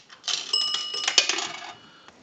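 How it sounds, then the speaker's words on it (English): A three-slot payphone's bell box rings twice as a dime drops through, two bright metallic dings close together with a short ringing decay, heard alone. "We want to use a dime. That will ring the bell 2 times."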